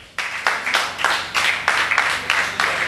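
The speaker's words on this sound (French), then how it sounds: "Est-ce qu'on peut applaudir pour nous-mêmes?" Members of a youth gathering at a New Year wishes exchange event applaud themselves, a sudden burst of crowd clapping that swells in repeated rhythmic waves and holds steady and loud to the end.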